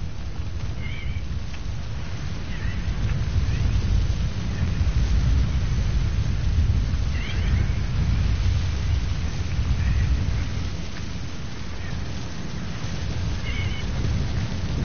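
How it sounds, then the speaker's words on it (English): A sandstorm in a video game: a steady, loud roar of wind and blowing sand fills the scene, with a few faint higher calls drifting over the continuous rumble. "So a sandstorm's come in."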